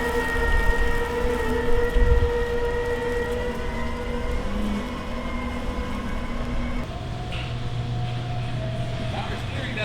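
Locomotive traction motors labour under full load climbing a hill, a loud, steady whine with sustained tonal drones that shift pitch partway through, close and continuous without a break.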